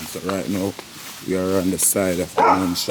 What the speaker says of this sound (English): That's the neighbor's dog disturbing the cameraman.